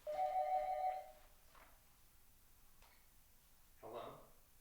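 A telephone rings once with a bright, sustained electronic tone at the start, loud and close, followed by quieter room sound and brief speech.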